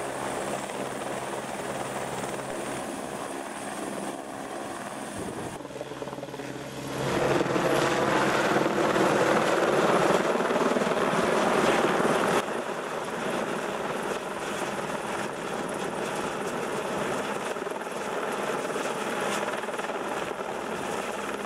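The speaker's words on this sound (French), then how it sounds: "Très vite, l'hélico revient chercher les caisses à eau emplies de matériel." A firefighting helicopter flies overhead during a mountain wildfire operation near Aubagne, its steady rotor and engine roar continuous and loud, swelling for several seconds as it passes closest before easing back to a sustained drone.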